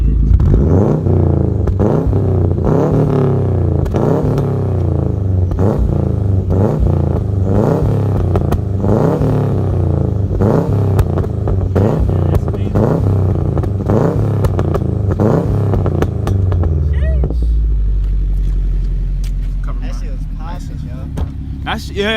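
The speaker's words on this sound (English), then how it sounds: "I'm gonna hold the camera while he rev the engine." Subaru WRX fitted with a Cobb exhaust, revved repeatedly in quick, loud, crackling blips up close, then settling into a rumbling idle near the end as voices chatter around it.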